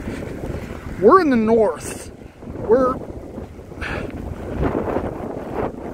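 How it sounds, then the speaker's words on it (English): Wind blows during a snowstorm in the north of Buffalo, a steady broadband rush of gusts buffeting the microphone beneath a person talking throughout. "We got snow, we got wind, but we didn't really get smacked."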